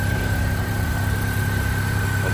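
A Chevrolet Corsa's 1.4 engine idles steadily just after being started at a used-car fair, a close, continuous low rumble with a faint steady whine, no talk over it.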